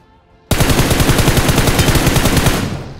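A burst of rapid automatic gunfire from a PUBG-style battle royale video game starts abruptly and continues as a loud, steady rattle of shots for over two seconds before tapering off.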